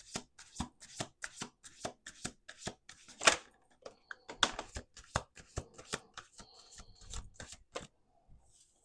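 Tarot cards handled and laid out on a table, a close, steady run of crisp card snaps and slaps in quick irregular succession with brief pauses between.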